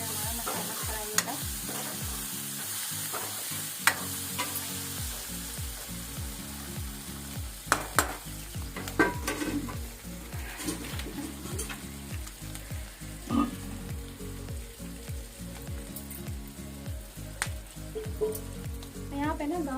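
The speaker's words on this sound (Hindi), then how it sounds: "यहाँ पे हमारा मसाला फ्राई होगा।" Masala spices frying in a pan in a rural mountain kitchen, a steady crackling sizzle with scraping stir strokes throughout, close and fairly loud, with occasional louder clinks.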